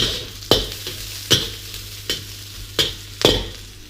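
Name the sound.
stir-frying in a hot wok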